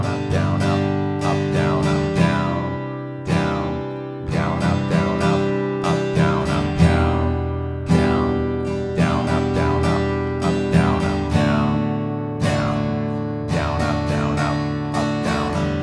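Steady strummed guitar chords in a quick sixteenth-note pattern, moving through a chord progression with bright attacks and a continuous rhythmic pulse, played alone and close with no voice.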